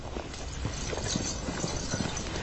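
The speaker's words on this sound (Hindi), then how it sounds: "कुछ घोड़े सवार इस तरफ आ रहे हैं।" Several ridden horses approach with a steady clip-clop of hooves under a dense, noisy background.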